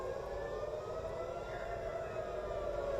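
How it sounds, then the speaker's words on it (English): Steady, droning air raid sirens wail continuously in the distance, a sustained wavering tone over low background rumble. "We'll hear the sirens are now coming."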